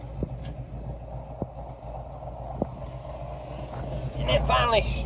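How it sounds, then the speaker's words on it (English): A Ford 289 V8 idles with a leaking exhaust header, a steady low rumble with faint periodic ticks, while someone talks over it throughout. "please overlook the header leak. That sounds horrible, doesn't it?"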